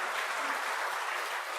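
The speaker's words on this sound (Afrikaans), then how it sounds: "So, kom ons gee vir hulle 'n hande klap." A congregation at an evening church service claps for the music team in a steady, dense wash of applause that stays level throughout the short stretch.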